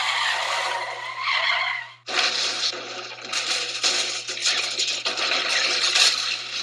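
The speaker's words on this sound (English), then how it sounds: "I'm going to yank the steering wheel hard to the right. That'll put me into a skid" Car tires skidding as the wheel is yanked hard at about 50 kph, a loud sustained screech that cuts off briefly, then resumes as a long, wavering squeal.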